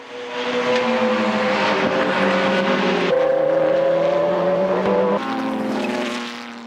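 McLaren GT race cars surge off the start at Fuji in the 1996 JGTC series, loud engines howling and climbing through gear changes close by, with overlapping exhaust tones and no talk.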